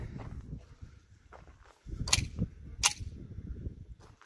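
Tisas 1911A1 .45 ACP pistol firing two sharp, loud shots about a second apart at an outdoor range, among rustling and shuffling noises.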